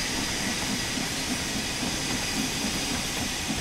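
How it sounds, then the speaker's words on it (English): A steam locomotive in Train Sim World vents steam in a continuous loud hiss with a faint rhythmic rumble underneath. "You see it releasing all that steam."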